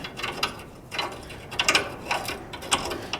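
A screw is driven into a Northwest trade gun with a series of close, crisp ratcheting clicks in short bursts, a few louder clicks standing out.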